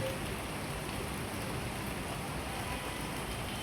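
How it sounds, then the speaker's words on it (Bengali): Heavy, steady rain falling through a long afternoon, a dense continuous hiss without letup and no voices. "প্রচুর বৃষ্টি"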